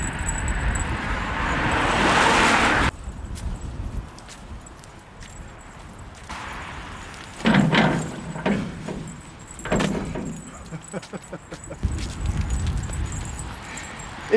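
Traffic on a road next to a parked car, with several vehicles whooshing past at moderate distance in separate swells, the first loud and close and the later ones softer.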